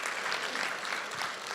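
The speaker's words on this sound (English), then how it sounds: "A round of applause for Dr." Audience applause at a university research showcase, a steady, dense wash of clapping that fills the moment without pause.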